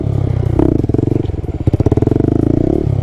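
A small Honda Grom motorcycle engine revs up close with a throbbing, pulsing exhaust note, rising and falling over three seconds during wheelie practice.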